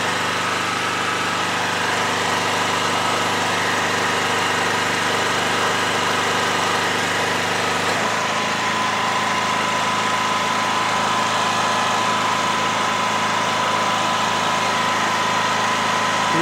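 A petrol generator engine runs steadily at 3000 rpm with no load, a loud, continuous close-up drone with an even hum and slight shift partway through, no speech.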